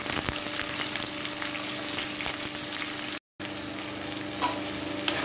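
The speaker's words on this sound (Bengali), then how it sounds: "পেঁয়াজটা এদিকে ভাজা হতে থাক" Onion fries in a pan with a steady close sizzle and crackle, a brief dropout in the middle and a couple of light scrapes near the end, and no voices.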